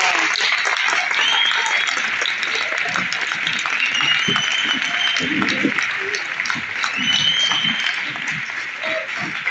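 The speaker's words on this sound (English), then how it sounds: "Let's give him a good round of applause." Audience applause at a PhD degree presentation conferred in absentia, a sustained round of clapping with a voice or two audible over it throughout.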